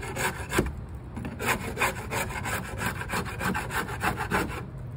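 A scraper is dragged over wood to strip off loose paint, giving a run of quick, rhythmic rasping strokes up close at moderate loudness, with no talking.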